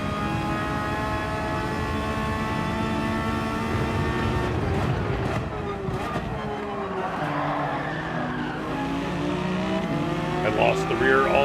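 A Ferrari race car in Gran Turismo 7 revs high and steady with a strong engine whine, the pitch dropping and shifting as it brakes and corners, mixed with tire noise and some talking.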